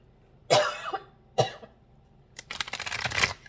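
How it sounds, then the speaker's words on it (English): Two sharp coughs a second apart, then a run of rougher, rapid hacking coughs near the mic, with quiet pauses between. "I'm going to have a little coughing fit here"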